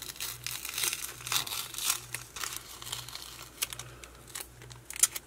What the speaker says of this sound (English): I'm going to lift up a piece of this tape